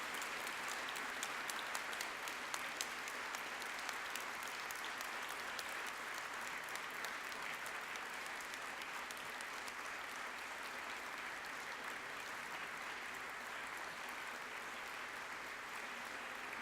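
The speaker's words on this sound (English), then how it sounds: "to stand and show your appreciation to those who have supported you by way of applause" Graduates of 2018 at a graduation ceremony give sustained applause, a dense, even wash of clapping from a large crowd that runs the whole length without pause.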